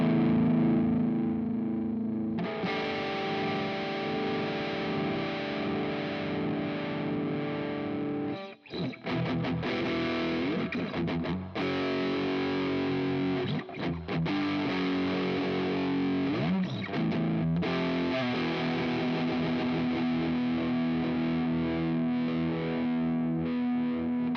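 Heavy electric guitar riff driven through a screamer overdrive pedal with the reverb turned down, thick and distorted, playing steadily for about twenty-four seconds with a couple of brief breaks and no talking.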